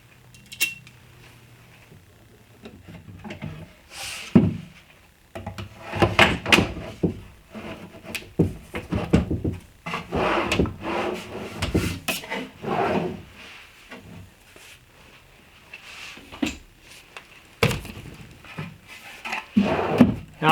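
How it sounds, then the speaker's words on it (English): Wooden drawer slides are fitted onto a wooden nightstand, producing intermittent scraping, rubbing and sliding knocks with short bursts of clattering between quiet pauses, heard up close. "I'm ready to install the drawer slides."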